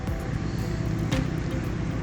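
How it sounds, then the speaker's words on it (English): Continuous road traffic on the far side of a river, a steady low rumble of passing vehicles with a broad wash of noise, fairly constant and not very loud. "Apologise for the noise,"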